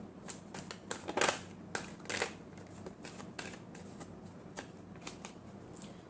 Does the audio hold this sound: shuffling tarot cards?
yes